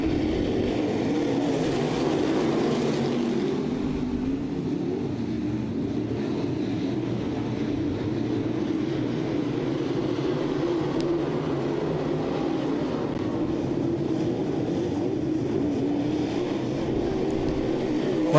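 Late model race car engines roar together at a motor speedway heat race, a dense, loud continuous drone with a steady mix of engines, no speech.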